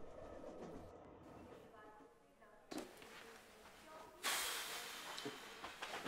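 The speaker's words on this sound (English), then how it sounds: "The next train arriving at platform 2 will be the delayed 11:55 service to Merivale." A train pulls into a station platform with a low rumble and rail noise, then a sudden loud burst of hissing brakes or air partway through. Faint voices sound in the background.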